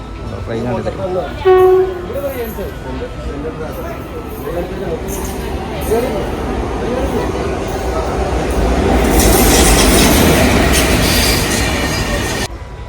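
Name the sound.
train arriving at station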